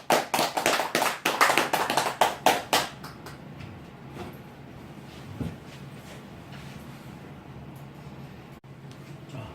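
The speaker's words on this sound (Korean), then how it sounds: "영광의 박수 올려드립니다." A church congregation in Korea gives a short burst of applause after a prayer, quick sharp claps for about three seconds that fade into quiet room noise.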